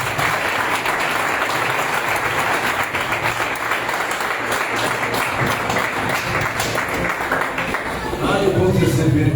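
A church congregation applauds during a Lord's Supper service, dense sustained clapping filling the room at a steady level and swelling slightly louder near the end as a voice comes in over it.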